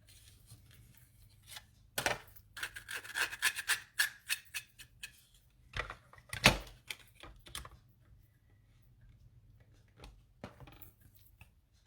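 Scissors snipping out a small paper tree shape, a quiet, irregular series of close crisp cuts and paper rustles with brief pauses between them, no voices.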